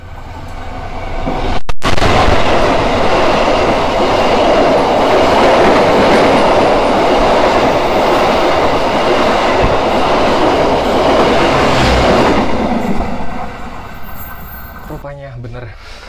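A passenger train runs past at Jeruk Legi station while another train waits to cross, giving a loud, steady rumble with rail clatter for about ten seconds before it fades away.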